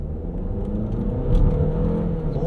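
A 2022 Cadillac XT4 engine pulls at quarter throttle from inside the cabin, a low steady rumble and whir that swells slightly midway, with no one speaking.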